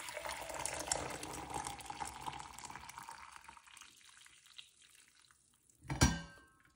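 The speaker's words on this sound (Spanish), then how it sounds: "Ahora voy a activar el termo con agua caliente." Hot water poured into a food thermos for a school lunch, a steady rushing splash that gradually thins and quiets, ending with a sharp clunk of the container near the close.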